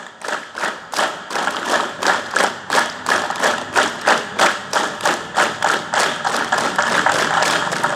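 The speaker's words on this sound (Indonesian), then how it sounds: "Ya, cukup tepuk tangan untuk kita semuanya." A group of high school students at the Piala Kapolres youth event in Central Lampung claps in unison, a loud, steady rhythm of about twenty-five sharp claps with no talking.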